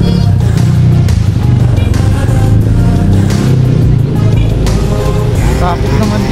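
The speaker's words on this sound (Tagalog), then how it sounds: "Traffic naman dito." Busy road traffic with cars and motorcycles, a loud, constant engine rumble close by with some revving, while a person talks over it.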